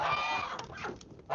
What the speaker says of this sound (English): I'm trying to let out the chickens and they are not having it